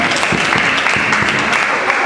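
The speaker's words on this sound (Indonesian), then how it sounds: "Beri tepuk tangan untuk teman-teman HMF" Applause for a student group at a campus debate between student executive board presidential candidates, a steady dense clapping from a crowd filling the whole moment without pause.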